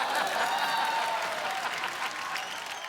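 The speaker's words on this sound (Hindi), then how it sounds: "एक बार अभिषेक भाई के लिए जोरदार तालियां हो जाए।" A comedy show audience claps for Abhishek with dense, sustained applause that carries steadily from start to finish, filling the room.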